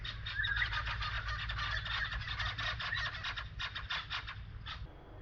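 Apostle birds keep up a steady stream of harsh, scratchy chattering calls, many quick overlapping bursts at moderate distance, which thin out near the end.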